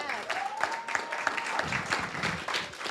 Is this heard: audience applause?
yes